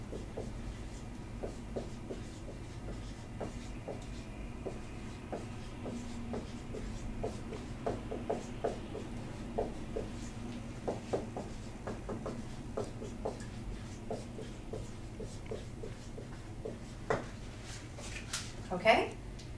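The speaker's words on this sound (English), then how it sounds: "I'm going to write it on the board and then we can compare." Marker or chalk writing on a board in an English grammar lesson, a steady run of short scratchy strokes at moderate distance, with low background hum and occasional light shuffling.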